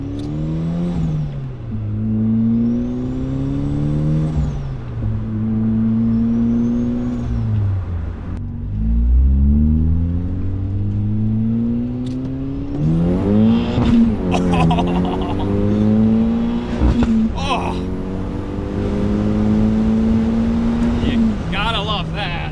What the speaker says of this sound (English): Like, it's just tapping the rev limiter.